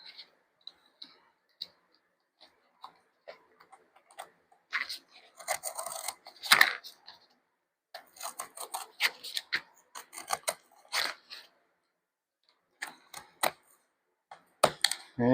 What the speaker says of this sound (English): Let's go ahead and cut this filter media open.